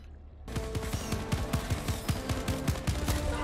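Rapid automatic gunfire from Helldivers 2 rattles out in a dense, steady burst after a brief quiet start, loud and continuous with rhythmic shots and no talk over it.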